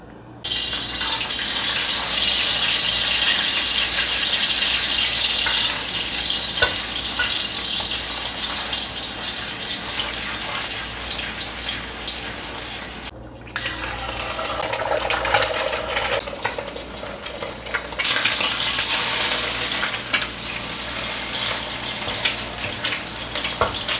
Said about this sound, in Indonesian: Pertama aku goreng ikan asin.